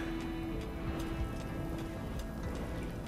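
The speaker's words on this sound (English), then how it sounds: "It's raining, dude." Steady rain in the video game RimWorld patters continuously with scattered droplet ticks and a low rumbling bed, evenly loud throughout with no voices.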